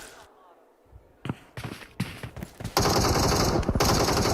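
Gunfire in a battle royale video game erupts in short separated bursts, then builds into a sustained rapid loud volley near the end, with some background game noise between shots.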